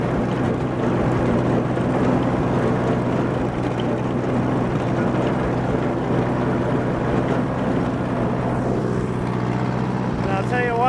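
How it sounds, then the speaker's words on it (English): Tractor pulling a heavy-duty brush hog mower across a field, a loud, steady engine drone with a constant low rumble from start to finish, near and uninterrupted. "Does a pretty good job of mowing just like a regular mower, even though it's a heavier duty machine for heavier brush."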